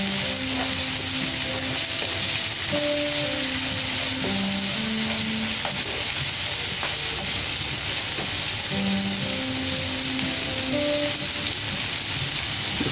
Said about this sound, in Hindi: को हल्का ब्राउन होने तक हम उसको भूनते रहेंगे पैन के अंदर।